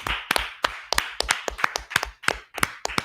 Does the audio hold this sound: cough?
no